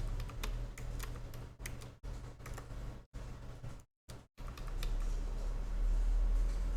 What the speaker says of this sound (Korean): 그 다음에 키보드로 선의 모양을 이렇게 그려주세요.